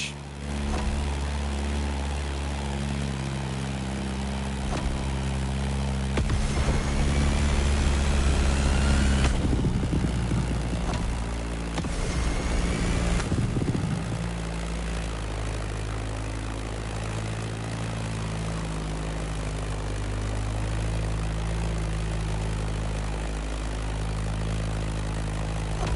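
A Beechcraft Staggerwing biplane's engine in The Crew Motorfest drones steadily and close throughout, swelling louder for a stretch in the middle before settling back to an even hum, with no talk.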